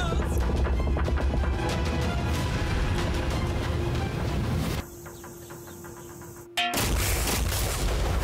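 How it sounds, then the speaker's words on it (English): A massive, sustained roar of an explosion fills the clip, then cuts to a brief quieter stretch before a sharp loud burst returns. "Explosion is going to be massive."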